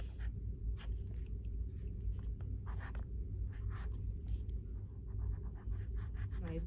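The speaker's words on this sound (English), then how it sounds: "so I'm going to write happy birthday, Jeff, down here." A pen writing words on a junk journal page, quick close scratching strokes in short bursts over a low steady hum, quiet and without speech.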